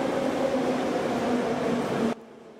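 Subway train pulling into a station, a steady rumbling roar with a metallic hum that cuts off abruptly near the end, leaving quiet room tone.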